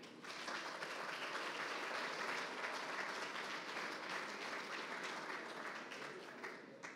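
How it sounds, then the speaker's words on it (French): An audience at a high-level sports awards evening breaks into applause. The clapping is broad, dense and sustained, rising quickly, holding steady for several seconds and tapering near the end, with no voices over it. "Je crois que ça peut s'applaudir, en effet."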